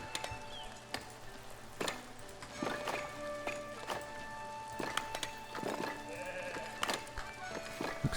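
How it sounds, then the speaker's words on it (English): Sheep in the video game Foundation bleat now and then over steady game ambience, with soft repeated clip-clop and footstep-like sounds throughout. "Looks like our sheep need a pen. They tend to just wander everywhere."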